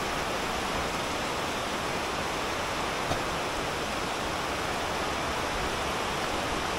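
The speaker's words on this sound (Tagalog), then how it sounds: "Kaya ngayon, malakas ang ulan." Heavy rain pours down during Typhoon Egay as a steady, dense hiss that does not let up, with no talking.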